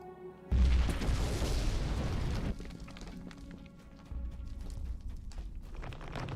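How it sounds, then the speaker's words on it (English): In Dungeons and Dragons Online, a loud explosive boom erupts suddenly, then a heavy rumble holds for about two seconds and fades into lower, crackling background noise. "We're gonna make this place go kaboom!"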